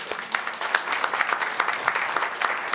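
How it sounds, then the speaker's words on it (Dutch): Audience applause at a Dutch talk event on biohacking and health, a steady wash of many hands clapping throughout, fairly close and loud, with no speech over it. "Zullen we misschien eerst een applaus doen dan?"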